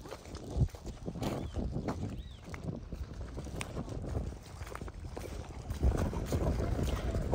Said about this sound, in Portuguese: Coloquei um microfone agora, gente, porque aqui tá fazendo muito vento.